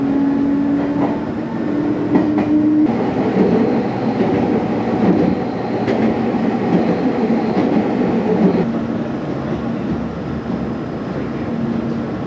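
Steady rumble of a Meitetsu electric train in motion, with rhythmic rail clatter and a faint whine, heard from inside a carriage throughout.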